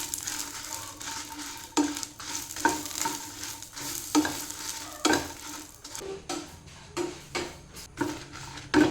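Dried red chillies, about fifteen, fry in a little oil in a pan for a home-style chicken curry, a steady sizzle broken by repeated scraping stirs at close range, with no one talking.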